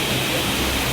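Steady, close roar of rushing water from a waterfall, a dense, unbroken hiss filling the whole second.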